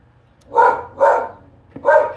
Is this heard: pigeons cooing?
no